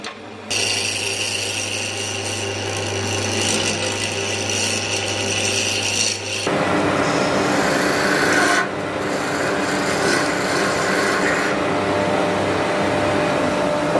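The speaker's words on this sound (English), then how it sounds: "I'm using a tapered reamer here to put a taper into the end of the soundboard, or the insert." A tapered reamer carves a taper into the end of a wooden soundboard insert, making a steady, close, dry rasping grind that continues throughout, with a low hum under the first half.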